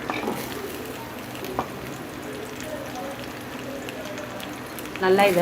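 Small shallots sauté in oil in a pan for beetroot chutney, giving a steady, even sizzle close by. A person talks over it, and a brief louder stir comes near the end.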